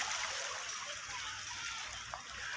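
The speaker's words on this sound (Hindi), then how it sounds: "ये देखें कितने प्रेशर से पानी आ रहा है इधर" Pressurised water gushes steadily into a large irrigation canal in Pakistan, a continuous faint rushing hiss with no talk over it.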